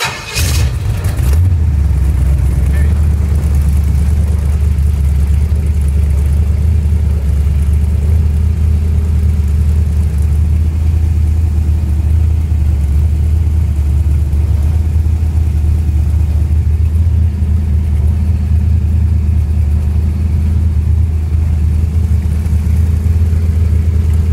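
A rat rod's small-block Chevy 350 V8 idles steadily after a brief start, a loud, continuous low rumble that holds even throughout with no speech.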